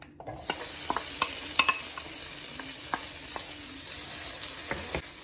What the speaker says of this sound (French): on fait chauffer l'huile d'olive dans la poêle pour pouvoir y mettre des petits cubes de poivrons